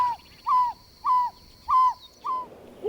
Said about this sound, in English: The barred owl, small, and the Capensa subspecies is rare.